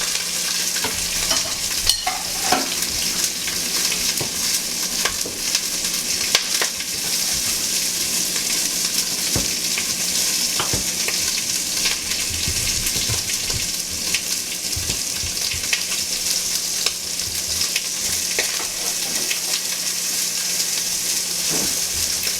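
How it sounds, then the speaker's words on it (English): Jackrabbit pieces searing and browning in a very hot pan, a steady dense sizzle with crackling pops and occasional scraping stirs, close and continuous without talk. "when I'm searing them this hot"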